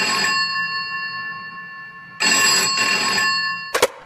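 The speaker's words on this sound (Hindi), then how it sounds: "उसके कमरे का लैंडफोन बजा" A landline telephone rings in two long electronic trills separated by a pause, loud and close, followed by a short click.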